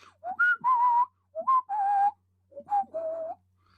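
A man whistles a melodic tune in three short phrases with brief gaps, clear and close with no talk, in a 1955 comedy film scene.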